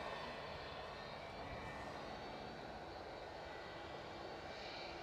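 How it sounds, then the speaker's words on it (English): A 47-year-old Cessna 152 light aircraft near Edinburgh Airport gives off a faint, distant, steady engine drone throughout, with no voices. "It's from Perth. It's a Cessna 152. 47 years old."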